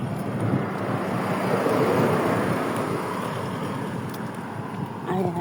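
Steady wind roars and buffets the microphone throughout, a dense continuous rush with no breaks.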